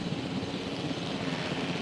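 In Jurassic World Evolution, a flying helicopter gives off a continuous low whirring rumble, constant in level and close by, with no other sounds breaking through.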